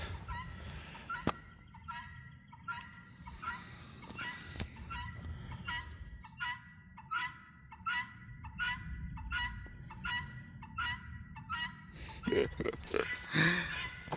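Guinea fowl calling on a farm, a long run of repeated harsh, rhythmic two-part cries at a steady pace, fairly close, ending in a louder chaotic burst of overlapping calls.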